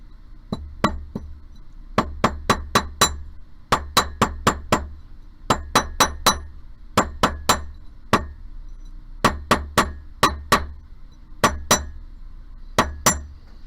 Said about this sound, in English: I'm gonna hammer this whole thing, and that's gonna stiffen it up a bit